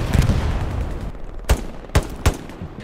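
Machine gun fire in Hell Let Loose, a mix of distant rattling bursts followed by three sharp, separate shots, loud and close.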